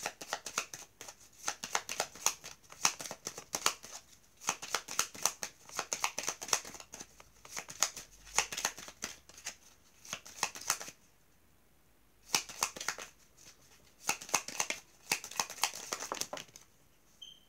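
Tarot cards shuffled and drawn close up: long runs of rapid papery riffling and slapping, broken by a few short pauses and then resuming, with no talking.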